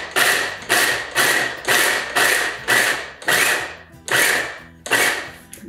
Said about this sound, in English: This Ninja chopper is perfect for chopping nuts and stuff like this.